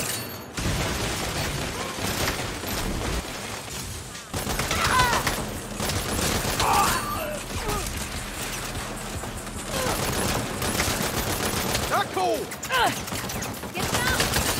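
Sniper gunfire from an upper floor in Saints Row, sharp shots and bursts over a dense layer of ongoing combat noise, continuous and fairly loud, with a short lull near the start.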